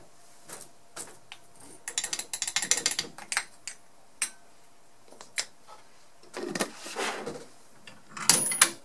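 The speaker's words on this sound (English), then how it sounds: "you would raise the ram, position your sample on the top of the ram, lower the ram by pressing it down until it's reached its lower position" A Metaserv mounting press ram is raised and lowered by hand, giving a string of close mechanical clicks, ratcheting rattles and clunks in uneven bursts over a quiet background.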